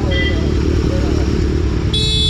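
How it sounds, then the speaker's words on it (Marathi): A loud Hero Passion Pro motorcycle engine rumbles steadily up close, a constant heavy drone throughout. "आपकी बाइक बहुत शोर बहुत करती है यार"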